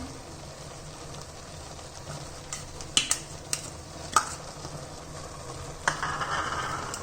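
Grated garlic sizzles and is stirred into a pot of mustard greens saag, a steady frying hiss broken by a few sharp spoon-against-pot knocks, close and alone with no talk.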